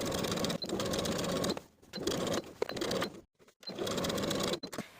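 A sewing machine stitches in three close, steady bursts with short pauses between, understitching a lining to the seam allowance at a neckline.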